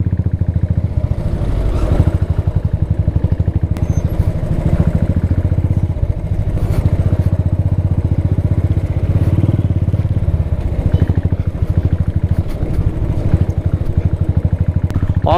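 A motorcycle riding a rough, dangerous mountain road in Mustang, Nepal, its engine droning loud and steady throughout with rattling clatter from the bumpy surface.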